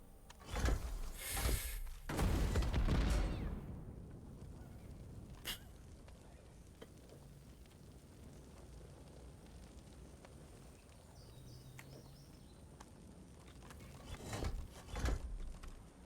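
In Divinity Original Sin 2, a fire barrel explodes in a few loud bursts near the start, then fades into a quiet hum with faint clicks and another burst near the end.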